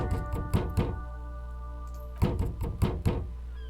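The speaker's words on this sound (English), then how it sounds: "Stop banging on the door." Heavy thuds of a fist banging on a door, a fast cluster of about five blows, a pause of over a second, then another burst of four or five loud knocks, with a steady low hum underneath.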